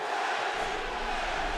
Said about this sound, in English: The crowd chants for their man.